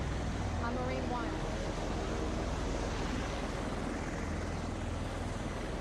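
Marine One, the presidential helicopter, lifting off for Uvalde, a steady loud roar of rotor and engine with wind-like wash, continuous throughout with no clear talk.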